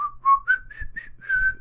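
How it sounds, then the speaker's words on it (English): A whistled melody layer in a song: about six clear, sustained whistled notes that rise and hold, played alone over a faint low hum. "under that you've got a whistle"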